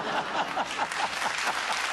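A TV studio audience applauding warmly for a singer; dense, steady clapping from a large crowd, close and loud, with a few faint chuckles and no clear talk.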